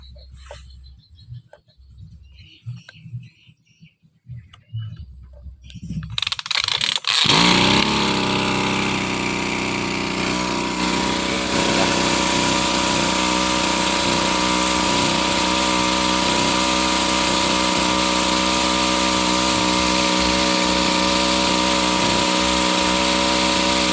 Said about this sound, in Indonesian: Kita akan hidupkan dulu mesinnya.